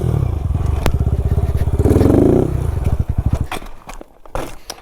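A motorcycle with a DHM high-compression piston revs hard through a wheelie attempt, its loud, rapid engine pulsing rising and then breaking into uneven pops and sputters as it drops back.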